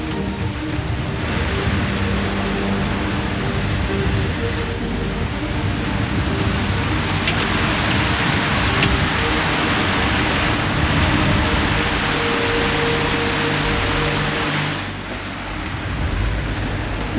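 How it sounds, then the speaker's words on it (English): Heavy rain pours onto a sailboat at anchor near Nassau, a loud continuous hiss and patter drumming across the deck and rigging, with low rumbling underneath and no voices. "Well, drizzle, pretty heavy rain."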